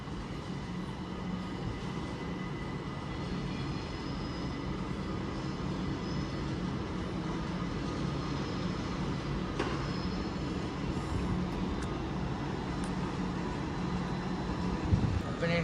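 A British Rail Class 378 train arriving at a London Euston platform from Watford Junction, a continuous low rumble and rolling rail noise with a faint squeal at the end.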